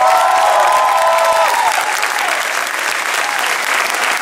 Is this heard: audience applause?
yes